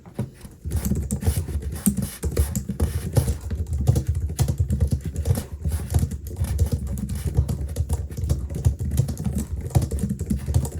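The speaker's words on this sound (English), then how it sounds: "I'll give you guys a quick typing test so you can see how this sounds" Steady, continuous typing on a Logitech MX Keys Mini compact wireless keyboard with soft, fairly quiet keystrokes in a quick irregular patter, close up, with no one talking.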